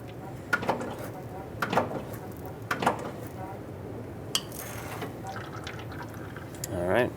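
Brake fluid drips and splashes from a bleeder hose on a 2006-2011 Honda Civic during brake bleeding, several sharp close drips and small liquid sounds spread out, with people talking in between.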